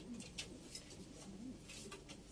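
Soft coos from kept pigeons repeat a few times against steady background noise, with faint higher chirps scattered through.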